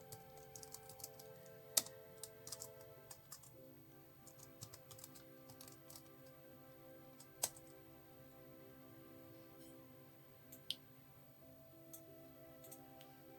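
Light tapping on a computer keyboard while entering a formula into a spreadsheet, soft, irregular keystrokes heard close with a few sharper clicks among them, over faint steady background tones.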